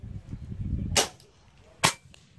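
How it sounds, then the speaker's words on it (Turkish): Two sharp, loud shots from a Hatsan Hercules .25 caliber air rifle firing JSB pellets, each a crisp crack about a second apart, following a stretch of low rumbling handling noise. "Yandan gösterip atış yapayım sonra."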